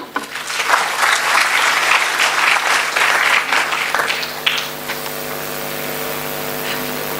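Conference audience applauding a speaker, a loud, dense round of many hands clapping that stops after about four seconds, leaving a faint hum and tones in the room.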